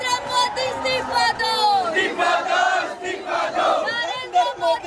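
Protesting students at a rally in India chant slogans together, a loud crowd of voices shouting rhythmic calls in repeated waves.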